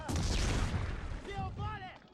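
Grenade exploding in a video game, a loud booming blast that rumbles and decays over about a second, followed by quieter game sounds and a few whistling tones.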